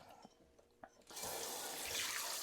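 Leftover buttermilk from homemade butter dumped out into a sink: after a second of faint knocks, a loud continuous gush of pouring liquid starts and keeps flowing steadily to the end.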